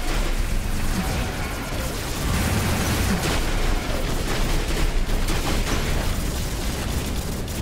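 Dense, continuous barrage of robot gunfire and explosions from the War Robots game, loud and unbroken, with rapid bursts layered over heavy booms throughout and no voices.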